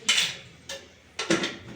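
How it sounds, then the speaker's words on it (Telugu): A kadai pan being set on the stove for onion and green chili frying, heard as three short clanks of metal on metal, fairly close and clear against a quiet kitchen. "కళాయి పెట్టి 2 స్పూన్ల నూనె పోసుకుంటున్నాను."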